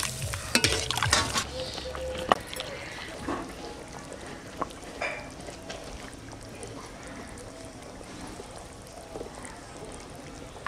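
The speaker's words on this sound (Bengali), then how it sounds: "এখন আমি জল দিয়ে দেবো।" Water poured into a pan of potatoes fried with spices, giving a loud hissing burst at the start that settles into a softer, steady bubbling sizzle with occasional clinks of stirring.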